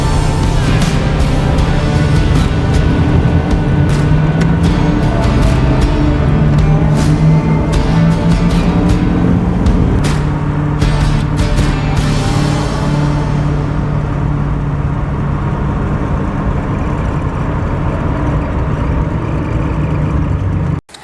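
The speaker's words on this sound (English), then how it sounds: "Listening to that engine rise and fall, watching the tack move all around" A 1965 Mustang Fastback with a 289 V8 and four-speed drives along, its engine note rising and falling through revs under loud cabin rumble, then easing toward a steadier drone before cutting off abruptly at the end.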